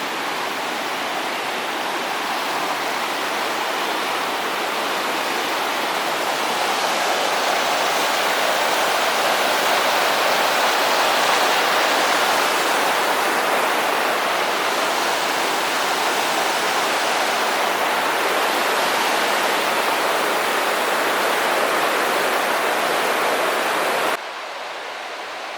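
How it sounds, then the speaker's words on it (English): A river rushes beneath a horse-capable footbridge on the John Muir Trail on the way toward Silver Pass, a loud, steady broadband roar of flowing water that holds constant and near throughout, dropping slightly at the very end. "We are coming to a river of which I don't know which one."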